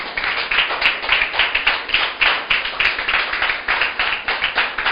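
A church congregation claps in rhythm during a sermon, loud, regular hand claps repeating steadily for the whole stretch, with no voices over them.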